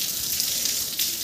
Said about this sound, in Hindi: कल से बरसात चालू हुआ है, अभी तक बरसात ही बरसात हो रही है